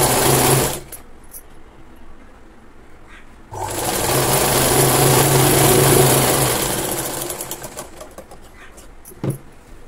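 A sewing machine stitches the folded hem of a punjabi dress bottom in two loud, close bursts of rapid mechanical whirring: a short run at the start, then a longer run after a pause, ending with a clack.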